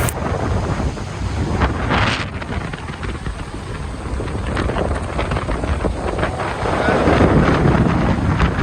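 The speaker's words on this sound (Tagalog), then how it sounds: "Sobrang lakas ng hangin." Strong wind on Boracay island during a storm with rain, roaring and buffeting the microphone in loud, continuous gusts with a wash of waves behind, growing heavier toward the end.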